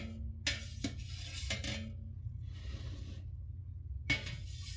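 A knife slices through cottage cheese curd in a pan, giving a few faint, sharp metallic taps and scrapes against the metal amid quiet, soft squelching.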